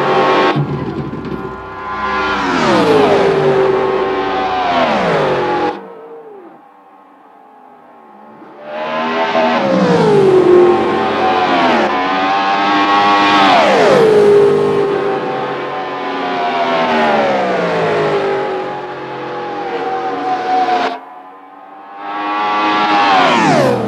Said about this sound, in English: Red Mustang.